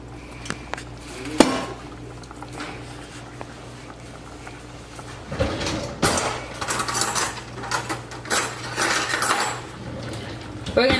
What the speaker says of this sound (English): go ahead and add our potatoes back into the pan